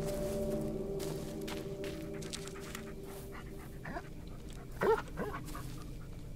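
A dog in the Blair Witch video game whimpers and pants softly over quiet ambient game sound, with a brief louder yelp near the end.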